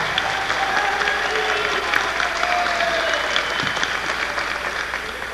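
Audience applause at a 1994 graduation ceremony of the physics institute IFUSP, a steady, dense clapping from a large crowd, loud and continuous throughout with a faint murmur of voices underneath.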